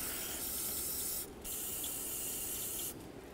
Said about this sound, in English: Now some penetrant.